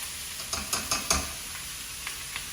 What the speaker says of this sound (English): I have the sausage over medium heat, and I'm just gonna break it up with my potato masher.